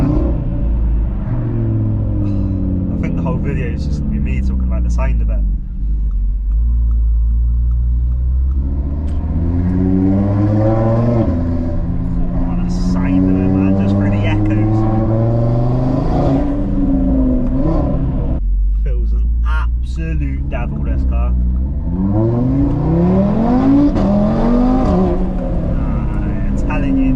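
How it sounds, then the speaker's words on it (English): A 540 bhp Audi TT RS with an APR Stage 2 tune and five-cylinder engine pulls steadily, its loud warbling note rising and falling through gear changes and a downshift, continuous from inside the car. "Just gentle driving, a little downshift, and it just brings out that 5-cylinder soundtrack."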